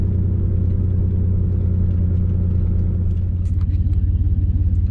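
A straight-piped GMC Sonoma pickup truck engine rumbles loud and deep through its open exhaust, holding a steady, throbbing drone close by with a slight rise near the end and no talk.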